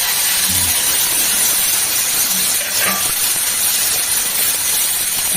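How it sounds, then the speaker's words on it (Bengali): Whole nigella seeds in hot oil, with a little water in the pan, give a loud, steady sizzling hiss close up, with a few faint pops before eggplant pieces are added. "এই যে গোটা বাবা কালো জিরে, জল ছিল মনে হচ্ছে, ফট ফট করছে বুঝলে"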